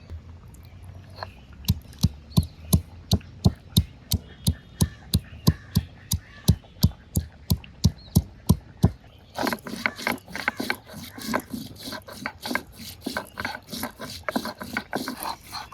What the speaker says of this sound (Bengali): এখন এই এলাচ দারচিনিটা বেটে দিয়ে দিব